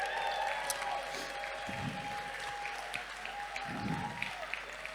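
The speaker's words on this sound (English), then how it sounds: "Make some noise." Audience at a live Edinburgh stage event applauds and cheers for a speaker being introduced, a steady wash of clapping with a few louder swells, heard at moderate distance in a hall.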